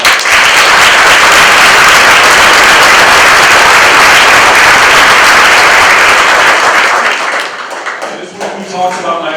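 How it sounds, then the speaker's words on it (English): An audience at a police promotion ceremony breaks into loud, sustained applause that fills the room for several seconds. The clapping then thins and fades as a voice begins speaking near the end. "So please give them another round of applause."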